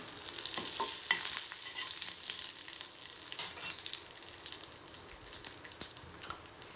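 Dried red chillies and curry leaves sizzle in hot oil as a spoon stirs the pan, a close, steady hiss with scattered scraping clicks and no talking.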